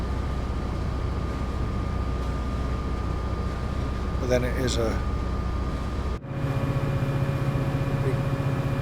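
An MP36PH-3C diesel locomotive in Train Sim World 5, on the San Bernardino to LA Union run, holds a loud, steady engine drone with deep rumble, then cuts abruptly into a heavier, higher throb; someone speaks briefly over it.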